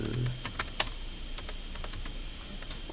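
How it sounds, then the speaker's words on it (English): Rapid typing on a computer keyboard, a close, light patter of key clicks in irregular bursts with one sharper keystroke. "Great typing skills?"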